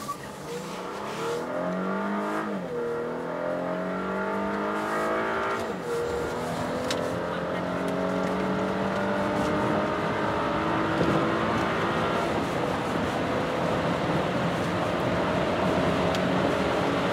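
A Mercedes E400 Hybrid accelerating hard from a standstill in a 0-100 km/h run, the engine revving up through several gear changes with rising and falling tones, loud and close, settling into a sustained high-speed drone.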